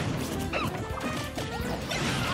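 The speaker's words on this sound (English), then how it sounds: "And FATBEN just going very risky with these smashes." Smash attacks landing in a fighting video game during a doubles tournament match, a dense burst of crunchy hit impacts and sharp whooshing effects over a busy, loud game soundtrack, with no clear talk.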